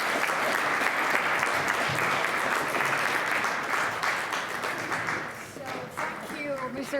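A conference audience at the WWC closing session breaks into sustained, loud applause, many hands clapping together before the sound thins slightly and a voice begins speaking near the end.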